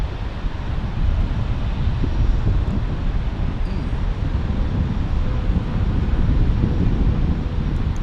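Airliner taking off from runway 28 left at Fort Lauderdale International Airport, a steady low, rumbling jet roar mixed with wind buffeting, sustained and fairly loud for several seconds with no talking.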